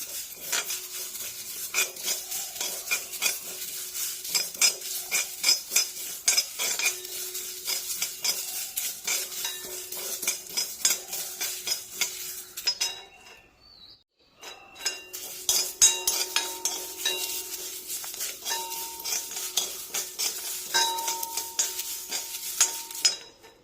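Black seeds (black cumin) rattle and scrape steadily against a hot pan as they're dry-roasted and stirred, with a short pause partway through before the stirring resumes. No talking.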